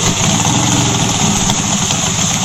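A motorcycle engine idles in the video game School Party Craft, a loud, steady rumbling drone with a fast throbbing pulse and no break.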